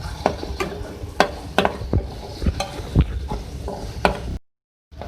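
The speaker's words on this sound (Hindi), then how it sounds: "अब मैं इसमें ऐड करूंगी टमाटर" Tomatoes tumbling into cooked-down masala in a pan for beef keema macaroni, with a spoon scraping and clinking against the metal in repeated strokes over a steady close sizzle, then a brief silence.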